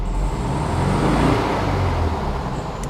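A 1965 VW Beetle engine runs close and steady at a loud, even level, its low rumble swelling slightly as the throttle is blipped partway through.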